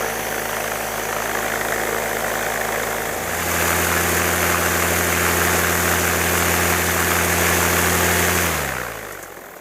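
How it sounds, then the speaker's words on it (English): A paramotor engine warms up before a foot launch, running a steady mechanical drone with strong low harmonics, stepping up in pitch partway through as throttle rises, then dropping off near the end; close and loud, with no talk. "Warm up the engine."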